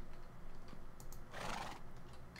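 Horse in the Minecraft video game gives a short whinny over a faint steady game background, quiet and up close.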